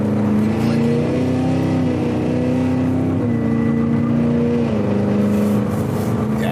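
Car engine pulling strongly under light throttle in a performance car with touring suspension, a steady droning hum rising slightly in pitch, heard from inside the cabin with no talk.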